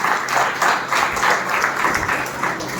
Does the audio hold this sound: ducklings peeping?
no